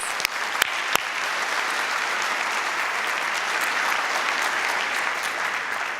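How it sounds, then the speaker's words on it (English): Sustained audience applause at a school Students of the Month ceremony, a dense, even wall of clapping that stays loud and steady for the whole stretch, with a few sharp individual claps near the start. "So please give them a round of applause."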